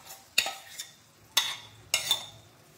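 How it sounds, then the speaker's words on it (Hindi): A spoon scrapes and clinks in a pan while dal is stirred into roasted tomatoes, three sharp distinct strokes with softer scraping between them, close up and fairly quiet. "और अब हम इसमें मिला देंगे दाल"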